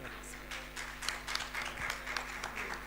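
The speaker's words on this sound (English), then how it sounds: "Claps." Audience applause at a medical association state conference, a steady patter of clapping hands through the room with a faint hum underneath, building slightly toward the end.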